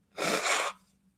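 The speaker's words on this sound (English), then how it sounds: "I got to sneeze" A single loud, close sneeze from an adult, a sharp breathy burst lasting about half a second, followed by quiet.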